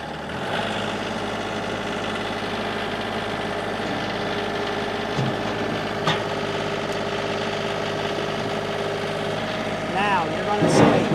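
A John Deere 2032R compact tractor engine starting and settling into a steady diesel idle, close and continuous, with the throttle bumped up near the end for a slight rise in engine note.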